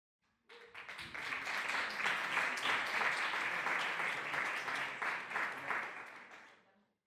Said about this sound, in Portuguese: Recebemos com mais uma salva de palmas a este grupo